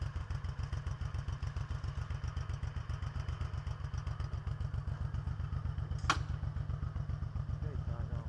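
Motorcycle being ridden, its engine thumping in a steady, rapid low pulse heard close up with wind rush, one sharp click partway through, and voices faintly under the engine.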